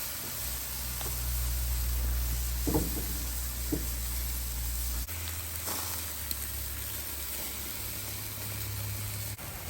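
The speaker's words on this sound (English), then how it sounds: "I just want to really get a little bit of a sear or char on each side of them" Chicken thighs sear on a hot Weber kettle grill with a steady close sizzle and hiss, occasional pops rising above a low hum.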